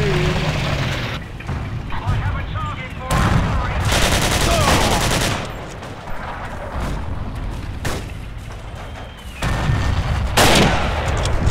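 Gunfire in Forgotten Hope 2 on Gold Beach comes as dense bursts of rifle and machine-gun shots with heavy rumbling blasts, sustained and loud, easing briefly before picking up again.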